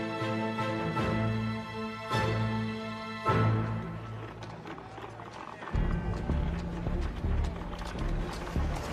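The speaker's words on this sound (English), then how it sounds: "horses will come in" Horse hooves clip-clop steadily on a street in 1880s New York, near Pearl Street Station, mixed under loud tonal music throughout.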